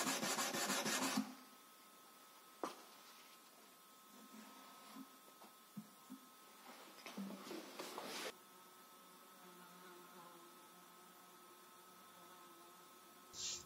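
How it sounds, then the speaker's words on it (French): A knife blade is polished by hand with 240 grit abrasive: a short burst of close rasping strokes, then fainter scattered rubbing and scraping against a quiet background. "Ensuite on passe au polissage à la main"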